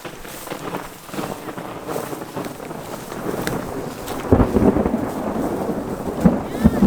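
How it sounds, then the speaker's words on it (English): Thunder from an approaching storm on Guadalcanal rolls and builds with wind buffeting the microphone, growing louder toward the end in an outdoor setting. "We got a storm that's rolling in, so we got to be pretty quick on this one."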